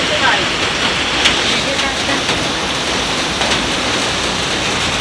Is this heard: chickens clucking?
no